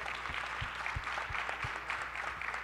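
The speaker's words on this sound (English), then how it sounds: "Let's give them a round of applause." A crowd at an entrepreneurship center event gives the panel a round of applause, with sustained clapping and a few deeper thumps at regular intervals throughout.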